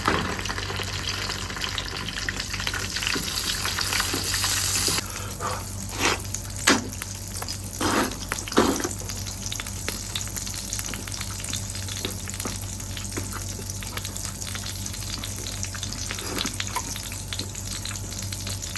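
Beef steak frying in an oiled iron pan at home, a steady close sizzle running throughout with a few louder bursts and crackles partway through.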